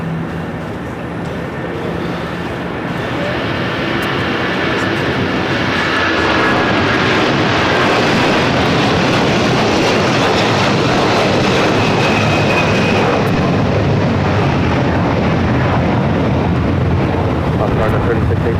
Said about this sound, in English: Now we do have a Moss cargo. Going to be taking off. Rolling down to 25 left.